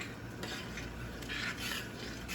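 Dill risotto rice stirred in a pot, a soft continuous scraping and swishing of the spoon through the grains with faint clinks against the pot, low and even with no talking.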